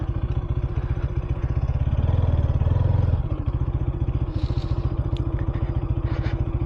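A motorbike pushes through thorny scrub where there is no path, its engine chugging in a steady low throb that swells briefly as it revs, with rattling clatter close by and no talk.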